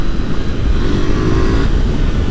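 A 2024 KTM 990 Duke motorcycle pulls hard in third gear on an open road, its engine note loud, close and continuous, rising steadily under acceleration with no break.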